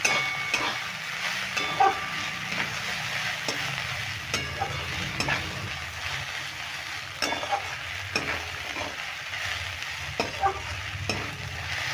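Potatoes and onion stalks fry in a pan without water, sizzling steadily while a spatula stirs and scrapes them in repeated, irregular strokes, close and fairly loud, with no voices.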